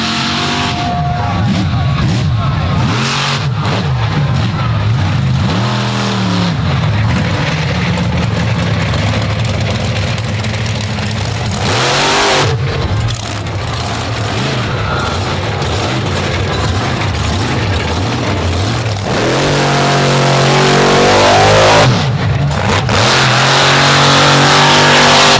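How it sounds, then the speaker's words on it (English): Monster truck engine revving hard at an All Stars show in Naples, tires spinning and blowing sand; loud, continuous roaring with rising bursts of throttle and a commentator's voice over the engine. "That's a lot of horsepower blowing those tires off like that."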